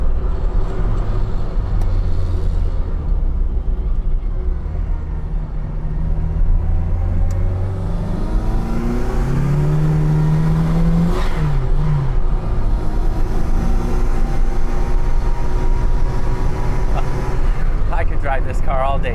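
Turbocharged classic Mini Cooper pulling hard on a rolling throttle, the engine note climbing steadily in pitch as it accelerates, heard from inside the car with someone talking over the steady road rumble.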